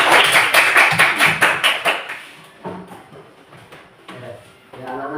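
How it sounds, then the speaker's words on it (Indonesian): A classroom of students claps together in a quick, even burst of about ten loud claps over two seconds. It fades into scattered light taps, and a voice talks afterward. "Sekarang kita berikan aplaus dulu"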